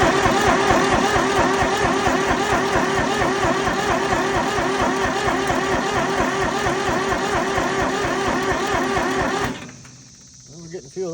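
A three-cylinder Ford diesel in a Brouwer forklift cranks and runs with a loud, steady rhythmic chugging for about nine seconds, then cuts off, with a faint voice in the quieter tail.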